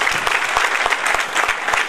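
An audience at a Rotary Club event in Lauria applauds as the town's mayor is called up, giving brisk, close clapping with distinct individual claps running throughout the short burst.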